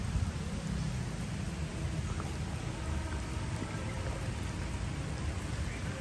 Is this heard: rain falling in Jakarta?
yes